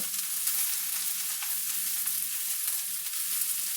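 Swiss chard frying in a pan while being stirred, a continuous close sizzle with soft rhythmic stirring scrapes.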